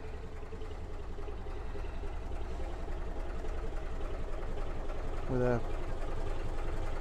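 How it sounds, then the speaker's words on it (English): Gardner 3LW diesel engine in a narrowboat engine room idling, a low steady rhythmic chugging throughout under a man's speech, with a brief whistle-like squeak near the end. "engine room housing a Gardner 3LW, which you can just hear ticking over in the background."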